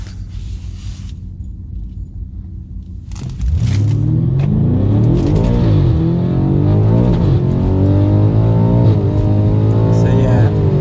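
A 900 WHP stage 3 BMW F90 M5 launches hard at a VMAX 200 event: a quiet idle, then a sudden loud engine surge at about three seconds, with rising and shifting revs, held at full volume to the end.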